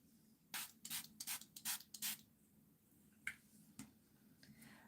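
LA Colors makeup setting spray spritzed in a quick burst of about six short hissing pumps, close and clear, followed by a couple of faint isolated taps.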